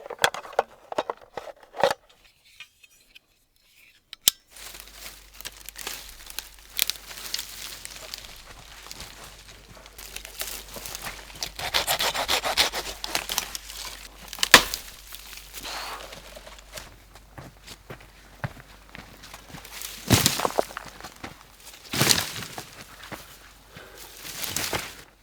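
Firewood kindling being gathered and snapped in a regrowth forest after wildfire, with irregular crackling snaps, rustles and footsteps close by over a low steady hum.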